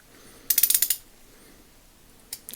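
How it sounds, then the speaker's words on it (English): A vintage Proto Challenger 1249 3/8-inch drive ratchet clicks through a quick run of about eight sharp, close ratcheting ticks, then goes quiet before a shorter second burst of clicks at the end. "See if it's ratcheting, and it's ratcheting."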